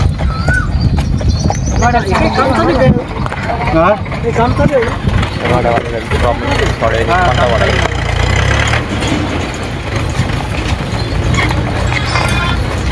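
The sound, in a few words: horse walking, hooves clip-clopping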